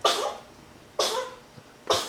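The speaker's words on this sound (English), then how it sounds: "having a coughing spell." Three sharp coughs spaced about a second apart, fairly close and moderately loud, with quiet pauses between them.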